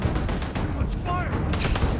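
Rapid bursts of gunfire from a firefight in the sci-fi video game Starfield, dense and continuous over a busy game mix, with someone talking over the shots.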